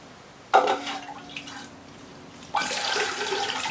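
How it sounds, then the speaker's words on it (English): Water is poured onto a mounted Ionopsis orchid, giving a sudden splash and short patter of dripping, a quieter lull, then a second, longer stream of pouring and splashing, close by with no voices. "I should be able to water that."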